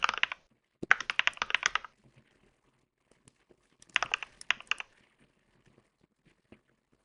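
Bursts of typing on a computer keyboard while coding, a dense flurry of close key clicks followed by scattered single taps, then another quick run of keystrokes and a few isolated clicks, with no talking.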